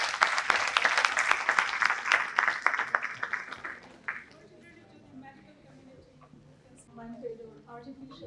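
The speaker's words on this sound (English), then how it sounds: "This message of ma'am should be welcomed with a huge round of applause," A large conference audience at a women's leadership event applauds loudly for about four seconds, the clapping then fading into quieter room noise and murmuring.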